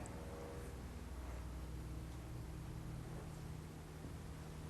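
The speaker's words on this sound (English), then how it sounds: "There's lots of white noise in this room happening. It's like a low frequency hum." A steady, low droning hum fills the room without a break, broad and constant like ventilation or appliance noise, with no voices.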